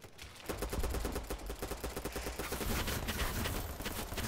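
Rapid automatic gunfire in the online shooter Battlebit Remastered, dense bursts of shots rattling continuously for several seconds, loud and close with no talk.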